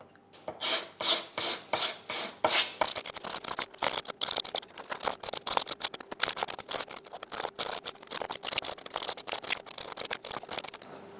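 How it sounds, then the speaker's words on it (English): Metal pipe ends for a PC watercooling loop being hand-sanded on a flat sheet of sandpaper: close, steady rasping strokes, evenly spaced and heavier at first, then quicker and lighter, with no talking. "I'm just going to use this piece of sandpaper, use my finger to align it on the flat"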